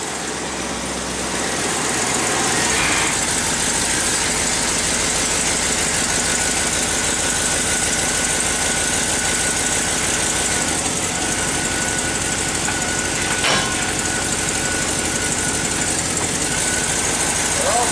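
A vehicle with a newly upgraded NP246 transfer case runs steadily with all four tires spinning, its engine droning on continuously at a close, loud level, with a brief sharp knock partway through.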